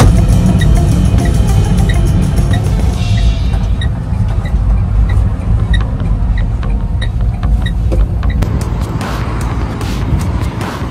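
A Citroën AMI electric car drives in at a charging spot in Riga, a loud steady close road and motor rumble with light clicks, fairly constant throughout.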